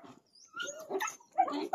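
A dog whimpers and yelps in short, uneven cries while it gets a vaccination injection, close and fairly faint, with brief pauses between the whines.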